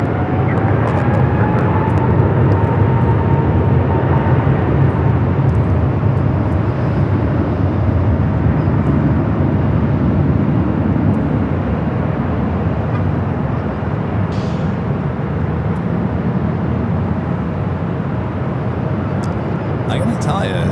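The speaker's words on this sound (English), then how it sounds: "Next arrival here on the north side is Air Canada Flight 556 coming from Vancouver" An Air Canada Boeing 737 MAX 8 arriving at LAX from Vancouver gives a steady, broad jet roar that holds at moderate distance throughout, with a voice talking over it.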